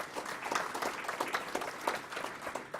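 An audience applauds at a 2018 ribbon cutting ceremony, a brief burst of dense clapping at moderate distance with no talk over it.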